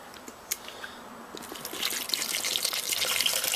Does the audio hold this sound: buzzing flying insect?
no